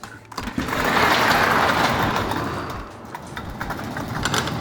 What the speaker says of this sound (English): I'm gonna go ahead and start it up now and check for leaks.